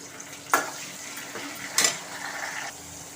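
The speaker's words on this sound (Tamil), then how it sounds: "நல்லா வதங்கட்டும்." Chopped tomatoes and onions sauté in oil in a pan for a chickpea curry, giving a soft steady sizzle with two sharp clinks of a spoon against the pan, close and fairly quiet.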